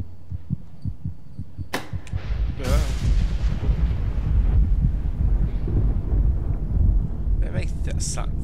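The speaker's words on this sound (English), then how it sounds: "They make that thunder sound like it's a freaking explosion in this game." Thunder in the horror video game Among the Sleep, booming like an explosion: a sharp crack, then a heavy, loud low rumble that rolls on for several seconds and slowly fades.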